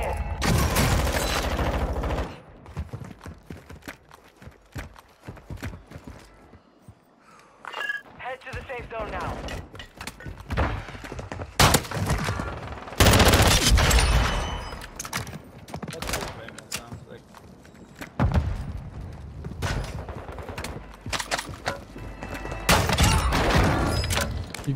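Gunfire in Call of Duty MW2 Warzone at Vondel Park: repeated loud bursts and rapid volleys separated by quieter stretches, with voices talking over the shooting.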